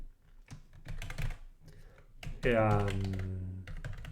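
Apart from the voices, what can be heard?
typing on a computer keyboard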